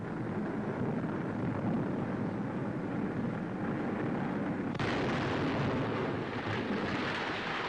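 Aerial bombs dropped by wartime bombardiers explode on target as a continuous roaring rumble, with a sharper surge partway through, heard in old newsreel sound without speech.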